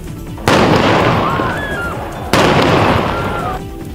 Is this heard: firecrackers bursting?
yes